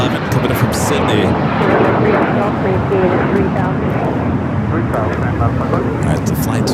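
An airliner bound for Miami turns after departing Los Angeles airport, its loud continuous jet roar filling the scene with a few sharp clicks and bumps over the top.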